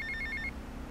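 A phone ringing in the video game GTA Vice City: a rapid trilling electronic ring in short pulses over a low rumbling game background, cutting off halfway through.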